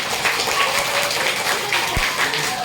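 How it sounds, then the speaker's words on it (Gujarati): A small gathering at a family birthday celebration breaks into dense, steady applause, close and fairly loud, with no pause from start to finish. "તાળી પાડો ભાઈ"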